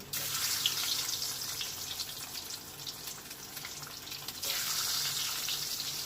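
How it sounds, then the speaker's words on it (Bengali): Eggs frying in oil in a wok for a spicy egg curry, a steady close sizzling hiss that dips slightly midway and swells louder again near the end, with no talking. "কড়ার মধ্যে কিন্তু একে একে ডিমগুলো দিয়ে দিচ্ছি।"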